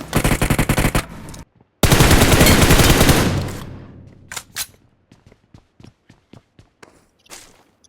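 PUBG gunfire: a rapid automatic burst, a short gap, then a longer sustained volley that fades into scattered single shots and light clicks, loud and up close with no talking.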